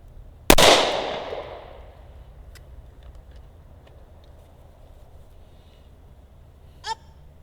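A single sharp, loud gunshot from a Smith & Wesson Shield .45 ACP pistol cracks out and rings down over about a second, followed by a brief faint metallic clink near the end.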